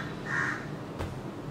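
A single crow caws once, a short harsh call that stands out clearly over a steady indoor background hum, with no talking during it.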